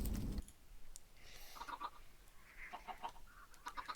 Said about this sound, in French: Alors les poules, ça a grandi.